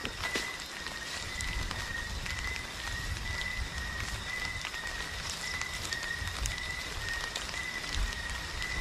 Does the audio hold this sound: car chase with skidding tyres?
no